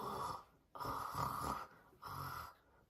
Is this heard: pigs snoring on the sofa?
yes